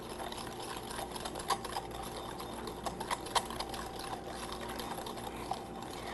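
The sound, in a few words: whisking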